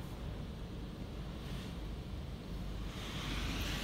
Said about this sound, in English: I think we're on spot free rinse now,